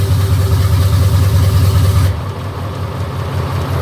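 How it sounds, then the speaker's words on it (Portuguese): A V8 car engine without turbo runs with its original engine brake setup, giving a loud, steady low rumble that drops abruptly partway through to a quieter, duller idle. "O jeito que o freio motor desse carro funciona é desse jeito, assim."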